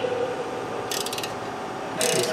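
A ratchet wrench tightens a castle nut on a Ford Edge steering knuckle, two short bursts of quick clicking sounding close and clear over a steady background hum, with no talk.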